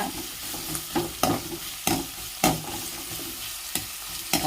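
Country chicken pieces and green chillies fry in a pan with a dense, loud sizzle, punctuated by regular spatula scrapes and knocks roughly every half second, close and with no voices.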